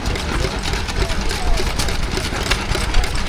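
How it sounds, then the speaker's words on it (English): A vintage Scott Homer gas engine idles at a country show with a steady, rough, low running drone, continuous and fairly close, with voices and outdoor crowd noise mixed in. "Scott Homer gas engine. Not really doing a lot."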